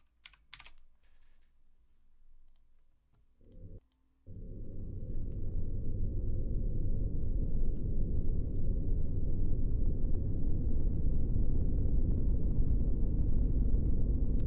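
A few brief clicks and taps, then a deep, steady rumble swells in and continues loud and unbroken to the end.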